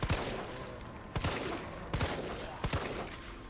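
Gunshots in the Resident Evil 3 demo: four sharp, punchy shots about three-quarters of a second apart, close and loud, with no talk.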